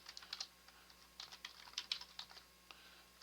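Key presses on a computer keyboard, backspace among them, come as a quiet, irregular patter of light clicks, close and faint, with no voices.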